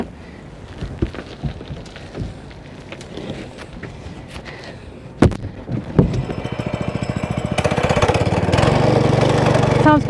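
A sod cutter slices grass sod beside houses during a drainage install, with clanks and knocks first, then the engine starting and settling into a loud, steady, chugging drone close by.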